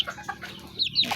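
Pet chickens, kept alongside turkeys at feeding time, give a few short, soft clucks, close by and quiet.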